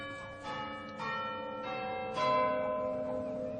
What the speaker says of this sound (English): And the chimes held no encouragement for Trotty at all.